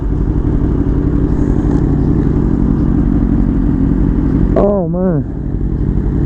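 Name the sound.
Yamaha R1 motorcycle engine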